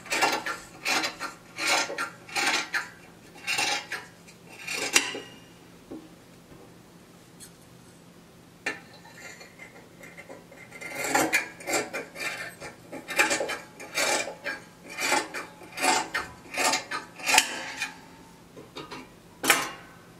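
Scissors cut through stretchy fabric for a turtleneck top in close, irregular bursts of crisp snipping and rustling, with a quieter pause partway through and no talking.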